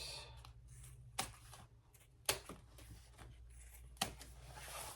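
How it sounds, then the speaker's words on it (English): Scissors snip off excess zipper ends while sewing an enlarged triple sling, giving a few sharp, separate cuts over a quiet room hum. "let's trim off our excess zippers"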